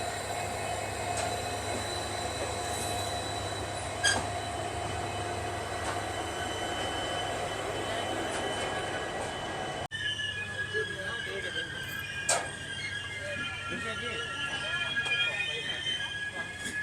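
Train running through the Thar Desert, heard from inside a sleeper-class coach: a steady low rumble and rattle of the carriage with faint squeals and clanks, plus indistinct background voices.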